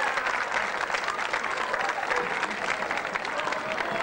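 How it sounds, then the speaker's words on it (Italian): A festival crowd at the Festa dei Monti gives sustained, warm applause: many hands clapping in a dense, continuous wash at an even level. "Vi chiedo un fortissimo e calorosissimo applauso per dare il benvenuto a Mimmo Sempre!"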